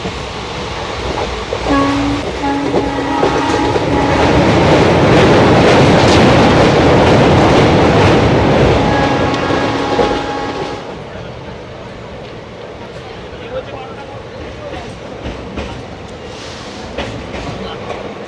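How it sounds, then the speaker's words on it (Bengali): A train leaving Krishnanagar, West Bengal, runs along the rails with a loud, continuous rumble and clatter under a steady hum, gradually easing a little toward the end. "এখন কিন্তু কৃষ্ণনগর থেকে ট্রেন ছেড়ে দিল"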